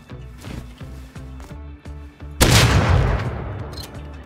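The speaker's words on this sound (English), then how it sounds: "A lot of shots gone off over here." In the survival game Rust, a single loud gunshot booms and rings out with a long decaying tail, following a steady run of rhythmic low pulses, with no talking.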